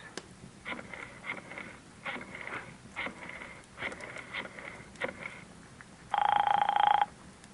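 An old-fashioned telephone rings on a call, repeated bursts of ringing in an even rhythm at moderate level, followed by a louder steady tone near the end.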